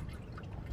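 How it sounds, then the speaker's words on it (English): Engine oil draining from an oil filter in a steady low trickle and pour, close by and fairly faint, with a continuous dribbling wash and no talk. "Let me drain the oil filter."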